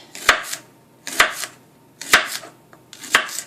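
A knife slices through half a leek on a cutting board while preparing a roast vegetable salad: four crisp, evenly spaced cuts, close and clear, with no talking.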